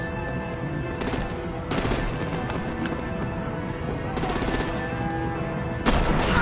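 Bursts of gunfire and heavy weapon fire erupt in a Batman action scene, several clusters of rapid shots spread across the span over a steady rumbling background, with a voice speaking in between.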